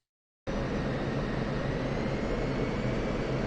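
F-16 jet engine on short final landing approach in the DCS flight simulator: a steady, dense roar that starts abruptly after a moment of silence and holds at constant loudness.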